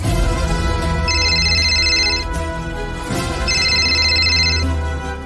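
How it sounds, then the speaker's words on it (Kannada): A phone rings during a Kannada TV serial scene: a loud, bright electronic ringtone repeating in two tuneful bursts over a steady background tone, close and prominent. "ನಿನ್ನ ಸೊಸೆ ಫೋನ್ ಮೇಲೆ ಫೋನ್ ಮಾಡ್ತಾನೆ ಇದ್ದಾಳೆ"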